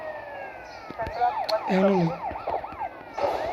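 A police car siren from the video game GTA Vice City wails in rising and falling sweeps, fairly close and prominent, while someone talks over it.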